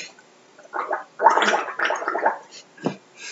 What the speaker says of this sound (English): That last gargle was for you